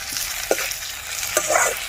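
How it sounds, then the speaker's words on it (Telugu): Two large chopped onions sizzle in hot oil in a kadai while being stirred, a continuous hiss with a couple of sharp spatula scrapes, up close and alone. "ఇప్పుడు అందులో 2 పెద్ద సైజు ఆనియన్స్ కట్ చేసుకొని వేసుకోవాలి. ఇప్పుడు మంచిగా కలుపుకోవాలి."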